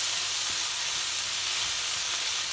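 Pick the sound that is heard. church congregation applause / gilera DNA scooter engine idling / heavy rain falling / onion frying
onion frying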